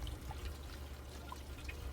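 Water trickles and burbles up through the base and sides of a hydroponic tower garden, a soft, continuous watery gurgle with occasional small drips, close and alone.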